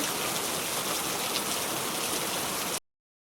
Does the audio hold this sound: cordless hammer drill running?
no